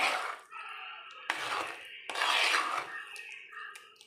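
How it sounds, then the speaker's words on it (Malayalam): Food being mashed with a spoon in a bowl, likely cooked tapioca: steady scraping and rubbing strokes against the dish, close and fairly loud, in several long passes with short breaks between them. "നന്നായിട്ട് ഇത് നമ്മൾ സ്പൂൺ കൊണ്ട് നന്നായിട്ട് ഇത് കുഴച്ച് നല്ലപോലെ മാഷ് ചെയ്തെടുത്തിട്ട്"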